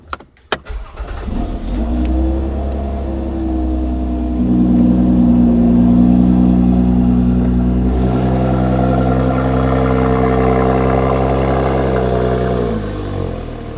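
Supercharged V6 of a Lotus Emira with about 4,000 miles, cranking and firing on a cold start, then settling into a loud, steady, slightly rising high idle with a deep droning tone, close and unbroken to the end.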